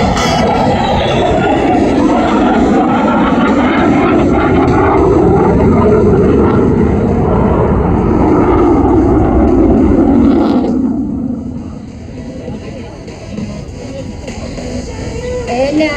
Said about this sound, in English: In from the left, the F-16 and the 4-point roll.